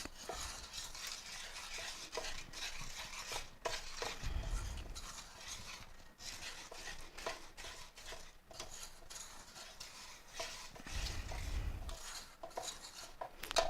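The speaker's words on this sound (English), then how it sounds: "Just make sure you got all the flour mixed in really good." A whisk or spoon stirs flour into thick cookie bar batter in a bowl, scraping and clinking against the sides in uneven bursts, close up with no talk.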